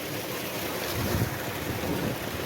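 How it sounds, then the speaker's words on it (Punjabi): A farm tubewell pumps water on a hot summer day, a loud, steady, close rush of gushing water with no talking. "ਨਾਲ ਚੱਲ ਰਿਹਾ ਪਿੱਛੇ ਟੂਬਲ"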